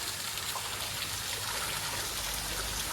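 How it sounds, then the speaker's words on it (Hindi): Water pours steadily from an artificial waterfall in a scenic Kerala restaurant garden, making a constant, dense rushing hiss with no break or voices. "यहाँ पे इन्होंने एक आर्टिफिशियल वाटरफॉल भी क्रिएट करके रखा है"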